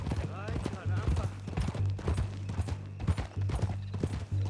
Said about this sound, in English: What I'd give for a horse as fine as that.